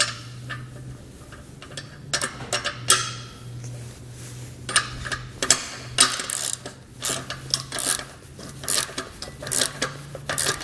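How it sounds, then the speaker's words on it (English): A ratchet runs nuts down on bolts while a Malone EcoLight Sport trailer is assembled, making a steady stream of close, busy clicking in uneven bursts over a low constant hum. "You can come back and ratchet and wrench and tighten it down"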